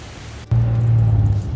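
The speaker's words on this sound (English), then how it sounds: "The wind's coming in." Wind rushes outdoors on an October evening in Vandergrift, rising abruptly after a quiet half second into a loud, low buffeting roar that stays strong to the end.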